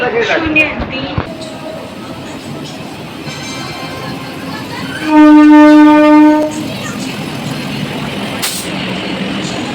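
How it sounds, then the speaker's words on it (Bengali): A train pulls into a station platform, its loud horn blaring for over a second amid rumbling rail noise, under the chatter of a crowded waiting area. "ট্রেন চলে এসেছে, কিন্তু ছাড়তে এখন অনেকটাই দেরি আছে।"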